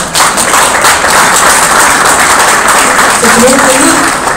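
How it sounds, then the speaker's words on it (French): Loud, dense applause from a large crowd at an iftar gathering, sustained and steady the whole way through. "je voulais juste demander un gros applaudissement à M. Garis."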